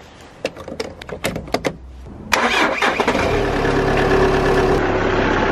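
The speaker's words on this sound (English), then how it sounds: "I think I'm gonna just leave it ticking over in this dirty ass diesel engine." Volkswagen diesel engine cranks with a few sharp clicks, catches and settles into a steady, loud, rough idle close by, with a clattering rhythm that holds to the end.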